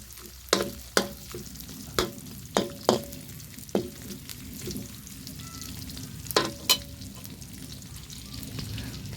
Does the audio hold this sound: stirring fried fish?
yes